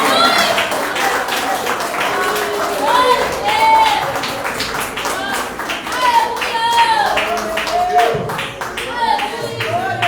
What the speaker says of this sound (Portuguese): Receba o servo do Senhor com as palmas bem alegres para o Senhor.